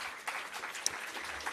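Audience applause at the launch of a public sector debate competition, a steady wash of clapping from a crowd that holds even for the whole short span, fairly soft and with no talking over it.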